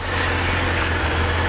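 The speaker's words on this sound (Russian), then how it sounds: "Мотоцикл работает ровно, правильно отсинхронизированы карбюраторы." A Honda CB750 motorcycle engine with synchronized carburetors idles steadily nearby, a low, even rumble with no voices.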